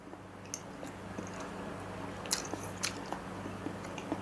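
Close, faint chewing and biting on a mouthful of Samyang Buldak spicy carbonara instant noodles, with a few soft wet crunches and squishes over a low steady background hum and no talking.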